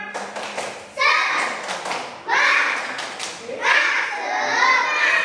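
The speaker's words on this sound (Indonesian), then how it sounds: "Tepuk semangat." Schoolchildren in a second-grade classroom do a rhythmic spirit clap: three loud bursts of patterned clapping, each about a second long, with children's voices mixed in.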